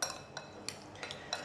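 A spoon stirs marinated chicken with pepper in a bowl, giving a few soft, irregular scrapes and light clinks spaced through a quiet moment, close and faint, with no voices.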